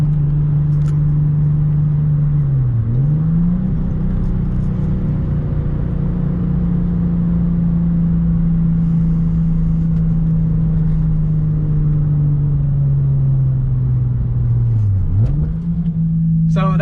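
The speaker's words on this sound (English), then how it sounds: "I just wanted to get a couple exhaust clips so you guys can hear my new exhaust." A Nissan 350Z with a newly fitted exhaust rumbles loudly up close, holding a deep steady drone broken by a couple of quick throttle blips.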